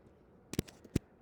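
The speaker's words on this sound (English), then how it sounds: "Let me just type it in." A few quick keystrokes on a computer keyboard, about four light taps clustered close together, heard near and alone in a quiet room.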